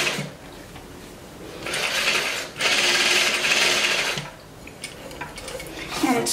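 Juki DDL-8700 industrial sewing machine stitching through two layers of muslin and then swimwear fabric over muslin, bursts of steady close whirring separated by brief pauses, with no talking.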